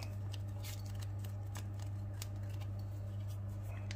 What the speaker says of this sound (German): dann muss ich ja die Tüte aufschneiden